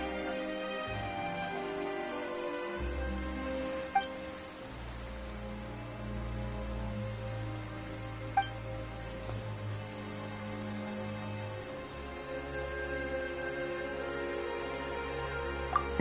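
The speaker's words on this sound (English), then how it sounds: "Why is it raining all of a sudden?" Steady rain falls in the Genshin Impact video game, a dense continuous patter over a low ambient music drone, with a few faint isolated drips standing out.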